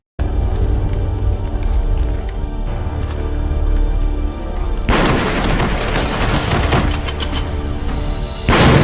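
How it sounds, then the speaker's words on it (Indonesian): Shootout gunfire from the action film Hellfire crackles under a tense rumbling score, growing into a dense, loud burst of rapid shots and impacts near the end. "Meski usianya tak lagi muda, Abah masih cukup tangguh untuk terlibat baku tembak melawan dua preman tersebut."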